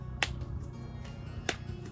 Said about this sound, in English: You can do 2 claps, 2 claps, 3 claps.